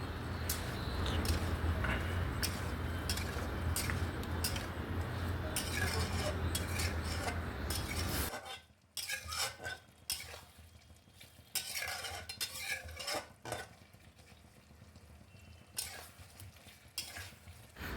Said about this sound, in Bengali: ওতে আমরা ভেজে রাখা আলুটা দিয়ে দেব